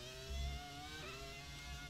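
A 2004 Ferrari Formula 1 car in the F1 2017 racing game revs hard, a high, whining engine note with harmonics that climb, dip at a gear change and climb again, heard steadily and fairly quietly with no talk.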